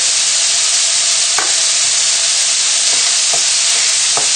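Bacon frying in a pan for a liver and bacon tagliatelle gives a steady, loud sizzle throughout, with a few brief scraping stirs standing out above it.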